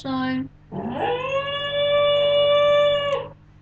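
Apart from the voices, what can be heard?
pet dog howling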